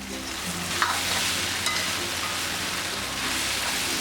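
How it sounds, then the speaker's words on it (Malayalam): Beef frying for a Kerala-style varattiyathu is stirred in a pan, producing a dense, continuous sizzle and crackle at close range, with a few faint scrapes from the spoon and no talking. "ഇളക്കി ഇളക്കി ഇത് നന്നായിട്ട് വരട്ടിയെടുക്കണം"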